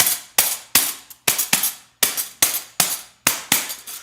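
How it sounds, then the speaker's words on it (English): Metal forks tapped against the hand like a homemade tambourine, giving eleven bright, jangly metallic strikes in a steady, slightly uneven rhythm, each with a short shimmering ring, close and alone. "tap the top to make a similar sound to a tambourine"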